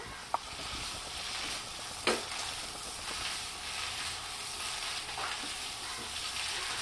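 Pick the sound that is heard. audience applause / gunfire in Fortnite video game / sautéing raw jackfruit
sautéing raw jackfruit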